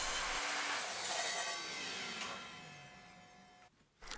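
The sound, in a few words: sawing a slice off a wooden scaffold board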